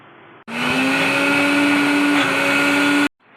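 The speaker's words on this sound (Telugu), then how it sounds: "ఇలా మిక్సీ పట్టేసుకోవాలండి." A kitchen mixer grinder blends tomato chutney (tomato pachadi) made with chilled tomatoes and salt. It gives a loud, steady motor whine and churning that starts abruptly, runs about two and a half seconds, then cuts off. No one speaks.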